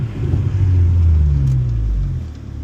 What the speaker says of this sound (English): again, the downshifts are just so satisfying.